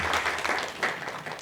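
Brief burst of audience clapping at a community celebration honouring a Pakistani female aeronautical engineer, a dense patter of many hands lasting just over a second.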